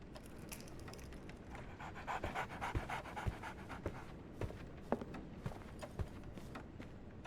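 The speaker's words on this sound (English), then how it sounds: "So, Barnes has a dog now." A dog pants in a video game, quick rhythmic breaths close by over a soft background bed, repeating steadily for several seconds.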